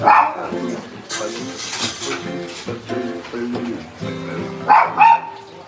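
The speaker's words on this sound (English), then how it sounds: "and my dogs are barking" Dogs bark several times amid talking and acoustic guitar playing, the yaps coming in short bursts near the start and end.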